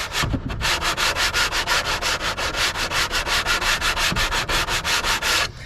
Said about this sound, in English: wrap it around a putty knife, and now I can slide that down against the top edge of this, which I can't get any other way, and sand that